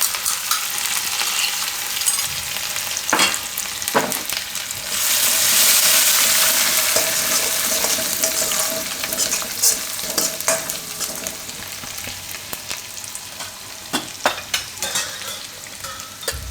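Ground ginger, green chili, garlic, coriander and cumin paste sizzles in hot oil in a kadhi pot, a steady bright frying hiss with intermittent scraping stir strokes and a louder burst midway, no voices.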